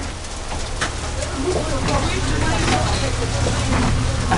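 Hail storm with a dense, steady roar of hailstones pelting surfaces, loud and continuous, with faint bird-like coos and voices blended into the din.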